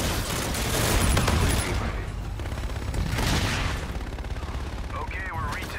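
Gunfire in the video game Call of Duty: Infinite Warfare multiplayer, dense bursts of shots crackling over a busy game mix, with voice callouts layered on top throughout.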